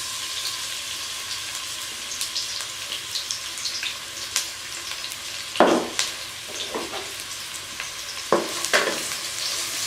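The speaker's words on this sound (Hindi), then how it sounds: "प्याज को हम तकरीबन 3 मिनट तक फ्राई करेंगे।" Sliced medium onions frying in hot oil for chicken malai handi, a steady close sizzle throughout with intermittent stirring scrapes and a few louder clanks of a spoon against the pan.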